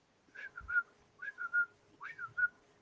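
Three short chirps whistled by a person imitating a bird, each a quick rising and falling trill, spaced evenly and heard close in quiet surroundings.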